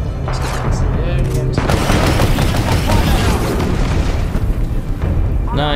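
A grenade explosion in the shooter video game Titanfall 2 booms amid a dense, continuous barrage of gunfire and blasts, loud and sustained throughout.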